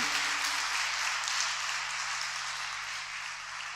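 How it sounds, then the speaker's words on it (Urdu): Church session audience clapping for a pastor, a steady wash of applause at moderate distance that slowly tapers off, with no talk over it. "زوردار تالیاں, زوردار تالیاں بجائے پادری صاحب کے لیے."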